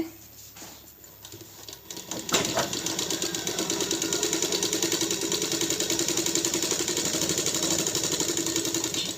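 An electric sewing machine stitching fabric in a tailoring class: after a few quiet handling sounds it starts up into a steady, fast mechanical whir with a rapid, even needle rhythm, close and moderately loud.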